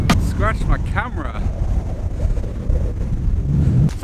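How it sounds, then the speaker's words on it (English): Strong wind buffets the microphone on a beach in the calm after a storm, a steady loud roar with gusts, while a person speaks over it at the start. "So as you can see, it's still really windy."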